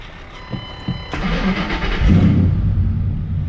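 A 2009 Ford Mustang GT 4.6-liter V8 starts after a few clicks, cranks, catches, and settles into a loud, close, rumbling idle.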